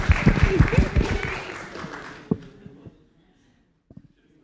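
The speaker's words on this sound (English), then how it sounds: "I think we can clap for the best relationship of his life as well" Brief applause from a church congregation during a live-streamed Sunday service, moderately loud at first and then quickly thinning out into scattered claps and near silence.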